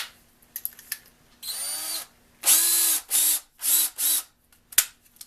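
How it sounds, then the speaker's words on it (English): An electric drill set to high speed bores holes for a workshop nozzle rack, heard in several loud, close bursts of whining motor that start, run briefly and stop, with short quiet gaps and a sharp click near the end. "Now I just have to drill the holes."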